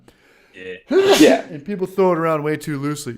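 A single sharp sneeze bursts out close to the microphone, followed at once by casual conversational talk.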